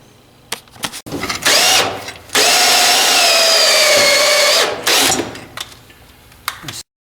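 A power tool cuts through a metal roller in a workshop, a loud whining grind of about two seconds, then a longer steady cut with clicks and handling noises before and after.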